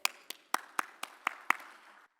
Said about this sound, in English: A loud round of applause for our next panel discussion